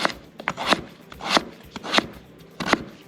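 A knife cuts sweet potato into chopstick-thick strips for dakgalbi, with a series of crisp, uneven chopping thuds against a board, several quick cuts bunched together, close and clear with no talking.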